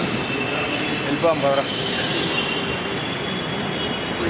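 Steady rumble of a metro train with a brief metallic squeal, loud and close, while a voice speaks over it.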